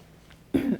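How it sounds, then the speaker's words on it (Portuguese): A single short throat clearing, a brief low rasp after a moment of near silence. "me dá até um pigarro"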